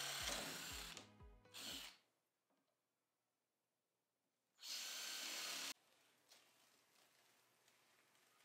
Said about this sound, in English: now I'm going to be using a 9/16 drill bit to drill all my pilot holes